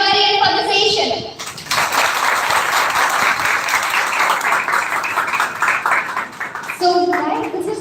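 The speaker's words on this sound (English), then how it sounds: "let's give a huge round of applause for everybody and for the session" A college audience at a public speaking contest breaks into a long, loud round of applause with dense crowd clapping, briefly framed by a voice at the start and end.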